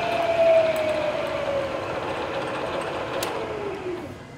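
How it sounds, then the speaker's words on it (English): A Bridgeport milling machine spindle spinning at 600 RPM in high range, giving a steady mechanical whine and hum that holds evenly and fades slightly near the end, with no speech. "Now that we have it set to 600 RPM,"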